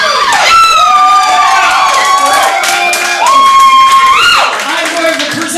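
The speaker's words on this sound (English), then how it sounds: "Hooting, hollering, whistling, catcalling, rhythmically slapping yourself, it's called applause." An audience at a burlesque show at Gallery5 in Richmond, Virginia, lets out loud, sustained whoops, sliding whistles and cheers over scattered clapping, close and continuous throughout.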